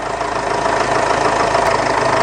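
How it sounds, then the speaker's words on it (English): A Mitsubishi Triton with the 4D56 engine idles roughly while overheating, giving a steady, loud, unbroken engine drone close by, with no one speaking. "And the engine's running quite rough too."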